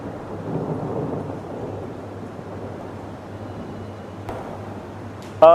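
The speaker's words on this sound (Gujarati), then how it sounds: "દક્ષિણ ગુજરાતમાં જે પ્રકારે ધોધમાર વરસાદ વરસી રહ્યો છે" Heavy monsoon rain pours steadily in Surat, South Gujarat, a dense wash of noise with low thunder rumbling underneath, then a sharp crack near the end.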